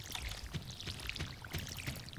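Watering crops in the farming game Stardew Valley, soft repeated pouring and splashing water effects, quiet and continuous with no talk.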